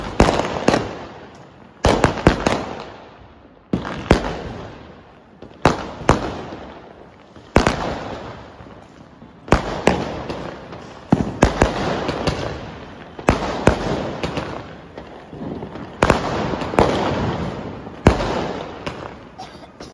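Diwali fireworks and firecrackers burst nearby in a loud series of sharp blasts roughly every two seconds, each followed by crackling and a fading tail.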